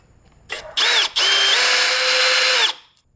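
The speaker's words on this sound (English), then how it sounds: "I need to just drill this" Power drill boring into a broken bolt on a BMW E9X/E82, a loud whining run that starts with a short burst, halts for a moment, then holds steady for about two seconds before winding down.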